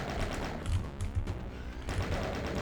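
Rapid bursts of gunfire and thudding rocket blasts from the video game Doom, dense and repeated in quick succession, loud and close with no talking over them.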